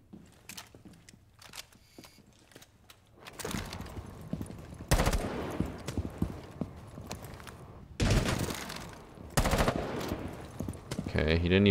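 Gunfire in Rainbow Six Siege, sharp bursts of shots arriving in several loud clusters over a busy game soundscape, with quieter clicks and movement sounds between the volleys.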